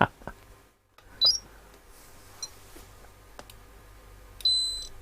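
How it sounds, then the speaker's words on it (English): A short electronic beep rings out during repair work on a Hacker Herald RP30 radio while a 100 µF 25 V capacitor is tested. A brief chirp comes first, then a clear, sustained beep stands alone over a quiet background hum. "So only one beep instead of the two."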